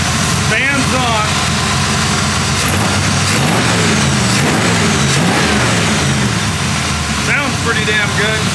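A 1940 Ford Tudor Sedan Deluxe idles at about 800 RPM with its fan running, a steady, loud, close-up rumble that holds even throughout, with voice-like sounds mixed into the engine noise.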